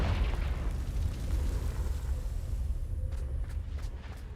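A Confringo blasting spell goes off in Hogwarts Legacy as one loud, rumbling explosion with a dense low-end roar that slowly decays, followed by faint clicking ticks near the end.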